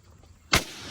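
A 6.5 Creedmoor rifle fires one sharp, loud shot at a long-range target, with a short decaying tail after a quiet lead-in.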